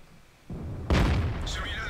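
A tank gun fires once in World of Tanks, a sudden loud boom with a rumbling tail and a brief metallic ricochet ring afterward, heard alone.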